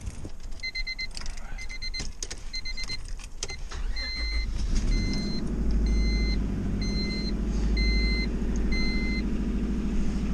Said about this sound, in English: Now it should nicely start with the key in the ignition barrel, like a normal car.